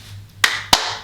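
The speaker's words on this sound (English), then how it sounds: "you could try clapping 2 times to make it a little bit trickier" Two sharp hand claps in quick succession between ball throws during a kids' exercise activity, crisp and close, with a faint low hum beneath.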